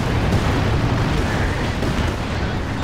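A Landmatratze rocket barrage in Company of Heroes 2 produces a dense, loud, continuous rumble of overlapping explosions that holds steady for the whole stretch.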